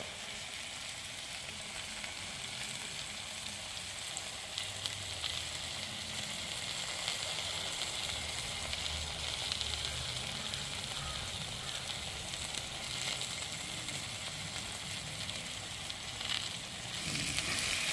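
Tomatoes sautéing in a hot pan for a home-style curry give a steady, soft sizzle and crackle that runs throughout at moderate level, with faint background noise.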